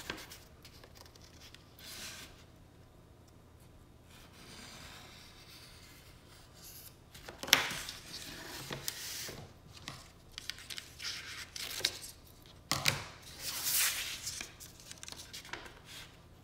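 Scissors snip through wallpaper along the edges during exterior papering, with a quiet stretch followed by bursts of close cutting, tearing and paper rustle, no talking.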